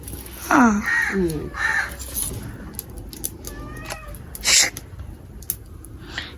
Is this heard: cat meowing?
yes